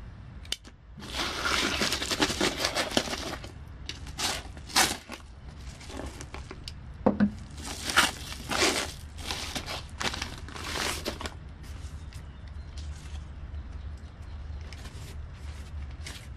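A mailed package holding a Helikon-Tex poncho is torn and unwrapped up close, with bursts of crinkling plastic and rustling packaging separated by short pauses, then quieter handling toward the end.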